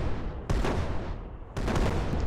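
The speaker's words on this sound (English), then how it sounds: "you won't stand a chance against my cannons" Two heavy, booming blasts a second apart, each a broad burst of rumbling noise, cannon fire in the game Brick Rigs.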